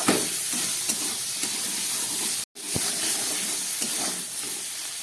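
Potatoes and tomatoes frying in a pan with cumin and chili powder, a steady close sizzle with scraping stirs, broken by a brief silent gap midway.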